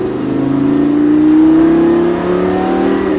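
A Lamborghini Gallardo sports car engine revs up steadily under acceleration on a track, its pitch climbing smoothly over a few seconds, loud and close.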